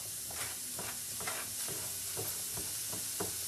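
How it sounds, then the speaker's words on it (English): Finely diced onion and tomato sizzle steadily in a hot pan, with a repeated stirring scrape roughly every half second over a continuous frying hiss, close and moderately loud with no voices. "So now I'm going to just add the finely diced onion"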